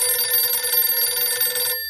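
A telephone rings loudly and steadily in a fast, even trill for nearly two seconds, then cuts off abruptly.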